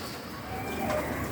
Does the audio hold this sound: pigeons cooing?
yes